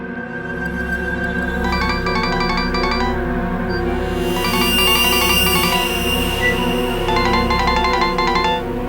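A mobile phone left behind rings with a repeating electronic melody in bursts, fairly loud and close, over a steady layer of dramatic background music in a crime drama scene.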